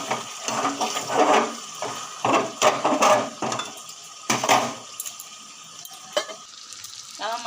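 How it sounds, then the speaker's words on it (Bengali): Chicken and potatoes with spices are stir-fried in a pot, with bursts of loud sizzling and scraping stirs that come and go in an uneven rhythm, close and fairly loud, with faint voice in the background. "এটা দিয়ে এখন আমি ভালো করে কষিয়ে নেব"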